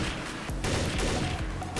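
AK rifle gunfire from the Counter-Strike video game cracks out in rapid bursts of shots against a dense background of game noise.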